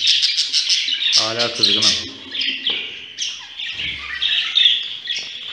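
Young Mubiş pigeon chicks give high, thin chirps and squeaks nonstop near the microphone while someone speaks briefly over them partway through.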